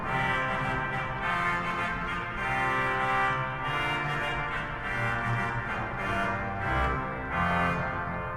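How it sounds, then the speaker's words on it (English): A trumpet 8-foot reed stop on the pipe organ at Old St. Patrick's Cathedral in New York City, playing a steady, loud, bright sustained passage with shifting chords and no talk. "So we've got a trumpet 8-foot."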